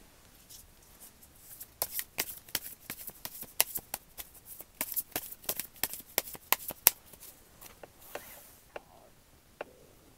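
Tarot cards are shuffled by hand in quick, irregular riffling flicks and snaps, close and fairly soft, before the shuffle tapers off.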